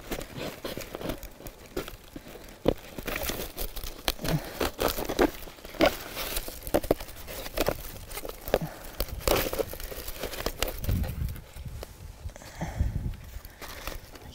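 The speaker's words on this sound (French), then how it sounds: "je vais faire mes trous sens contraire du grain de l'écorce" Holes are punched through tree bark against the grain in a winter forest, a run of close, dry crinkling and tearing crackles in irregular bursts, with no talking.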